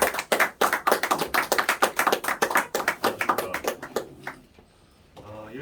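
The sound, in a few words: audience applause welcoming a speaker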